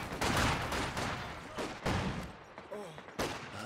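Gunfire and an incendiary grenade in the World War II strategy game Company of Heroes 2, with bursts of rattling rifle and machine-gun fire, a heavier blast, and a commentator's voice faintly in the background.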